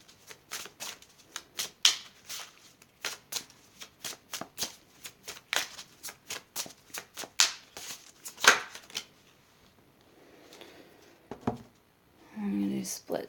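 Tarot and oracle cards from the Tarot of Sexual Magic and Romance Angels Oracle decks are shuffled in a quick run of crisp riffling snaps, close and dry, ending with a few softer card handling rustles.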